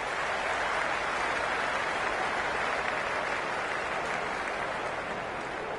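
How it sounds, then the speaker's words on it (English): Stadium crowd roaring and cheering in the cricket video game Cricket 26, a steady dense wash of noise that holds loud and unbroken throughout with no talk over it. "It's evident and ever so audible that the crowd is at near bursting point at today's play."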